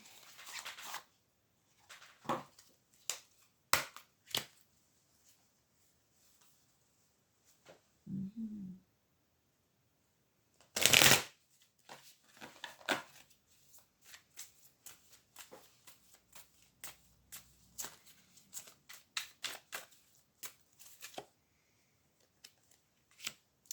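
Tarot cards are shuffled in repeated short bursts of riffling and flicking, heard up close, with quiet pauses between the handling sounds.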